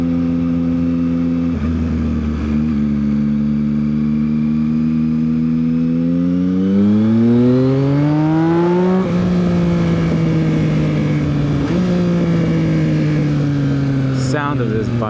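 Yamaha XSR900 motorcycle fitted with a Leo Vince exhaust, idling and then revving in rising sweeps near the microphone, the engine note climbing and falling several times over a steady rumble.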